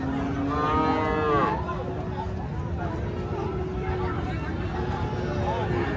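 A one-year-old Friesian cow at a busy cattle market lets out a clear, loud moo early on, followed by fainter lowing, over a steady hubbub of crowd noise and distant chatter.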